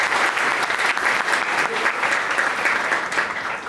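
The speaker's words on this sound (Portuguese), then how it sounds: "Uma salva de palmas" Dense audience applause fills a staff talk, a steady wash of many hands clapping at even loudness for nearly four seconds before easing slightly at the end.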